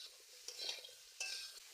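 Freshly cut potatoes in hot oil in a pan, faint soft sizzling broken by two quick scraping stirs of a spatula, quiet and close, with no talking.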